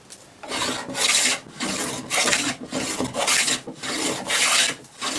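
A hand plane taking heavy shavings with a heavily cambered iron across a board: five rhythmic rasping strokes, each a dry, close hiss of steel on wood, with brief pauses between and no talking.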